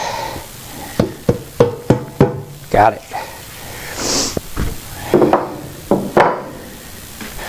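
A series of sharp metallic hammer knocks on a 13B peripheral-port rotary engine during disassembly, in uneven bursts, with a brief spoken remark partway through.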